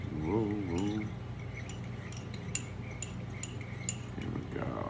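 A spoon stirs aloe water made with near-boiling water in a glass, tinkling in quick irregular clinks against the sides after a brief hum of a voice at the start.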